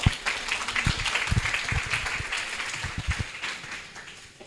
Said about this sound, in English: So please give an applause to give it the welcome.